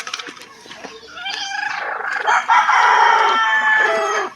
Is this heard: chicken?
yes